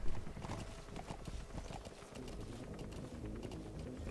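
Horse hooves clip-clop in a steady, close, rapid rhythm as a horse moves along in Metal Gear Solid V, with game ambience underneath.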